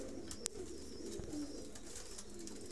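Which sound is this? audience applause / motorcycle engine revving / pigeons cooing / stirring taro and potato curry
pigeons cooing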